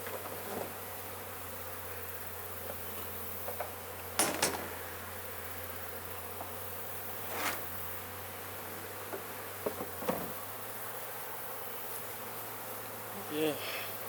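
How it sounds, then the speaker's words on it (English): Bees buzz around honey frames during a harvest, a constant hum with individual insects flying past close to the microphone now and then over a low steady drone. "a lot of bees are getting around fighting my honey."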